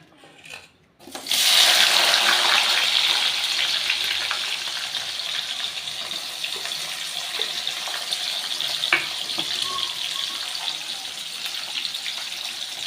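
Chopped onion hits very hot white oil in a kadai with a sudden loud sizzle that stays strong and close, then eases into a steady frying hiss with occasional small pops.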